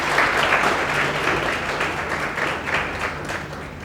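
A crowd claps at a ceremony for NEET-selected students of a coaching class, a dense, steady wash of applause that swells slightly in waves and continues without any talk.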